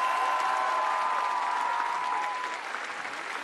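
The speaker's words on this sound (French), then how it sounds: "on fait du bruit pour eux" A crowd at a comedy event applauds dancers with sustained, dense clapping and some cheering that fades slightly toward the end.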